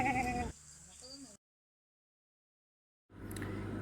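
Two short bleats from a nearby Beetal cross goat, then a long stretch of silence before livestock noise and a brief higher cry return.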